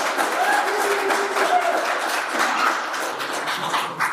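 Audience at a city council meeting applauds in a steady burst of clapping from many hands, filling the room for a few seconds.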